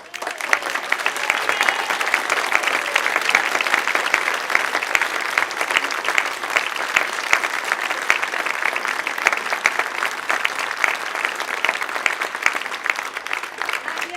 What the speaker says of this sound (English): I think Jenny deserves a round of applause